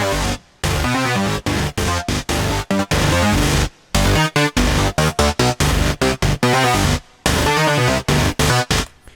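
A metal synth line played on the free Vital software synth, loud and upfront, with choppy, rhythmic gated stabs and short bursts separated by abrupt cuts and a few longer silences.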